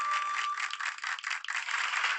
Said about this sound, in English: Let's give him a jolly loud round of applause